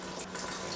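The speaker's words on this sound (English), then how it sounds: "And then 4 teaspoons of water." Water is poured from a teaspoon into sugar while making a passion fruit syrup, a soft, brief trickle close by that lasts under a second, with no talk over it.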